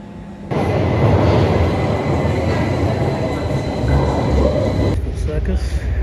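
London Underground Bakerloo line train running steadily, a loud continuous rumble and roar with a rise in level at the start and a shift near the end, heard from close by.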